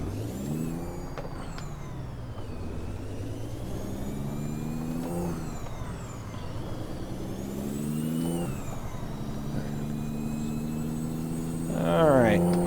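A Ford 9000 truck's engine drones in American Truck Simulator, a steady mid-pitched rumble rising and falling through gear changes and revs, with an air-brake hiss near the end; someone talks over it.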